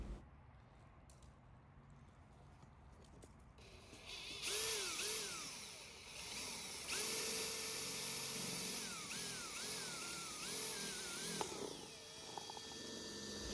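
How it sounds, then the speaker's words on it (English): A power drill whirs steadily at close range, its pitch rising and falling as the bit bites into a plastic Dollar Tree stackable planter, running for several seconds without speech. "my husband uses a drill for this step"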